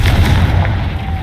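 Confringo blasting spell explosion in the Hogwarts Legacy video game, a loud booming burst with a rumbling low-end tail that fades over about a second.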